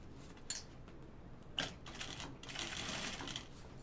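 A sewing machine stitching a fabric pocket bucket, heard as quiet bursts of fast mechanical stitching whir with short clicks and pauses between runs, close but low in level, no talk.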